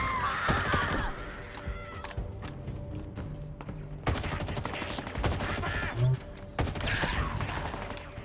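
Gunfire in the Halo Infinite video game crackles in repeated bursts and single shots amid explosive thumps and game effects, with intermittent mechanical clanks over a busy background.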